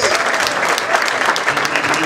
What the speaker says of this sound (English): Clap for them as they receive